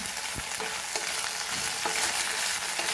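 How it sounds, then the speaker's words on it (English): Okra (lady finger) frying over a medium flame for a Goan jeerem meerem dish, giving a steady, close, dense sizzle with faint stirring scrapes throughout and no talking. "Fry this on medium flame."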